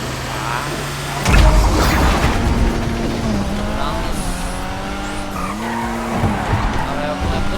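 Car skidding in a racing video game, tires squealing in long wavering streaks over a revving engine, loud and near, with several drawn-out slides and a voice talking over it.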